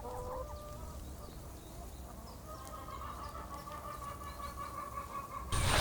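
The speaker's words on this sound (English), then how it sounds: "So these are our pasture sanitizing chickens." Pasture-sanitizing chickens on a regenerative farm, clucking and calling in a steady flock chatter close by, with a sharp louder burst at the very end.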